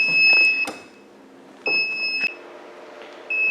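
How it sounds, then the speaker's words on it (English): An electronic appliance emits a few high beeps while warming up, some single and some held, with clattering handling noises between them, close by. "wait for it to warm up a little bit and stop beeping"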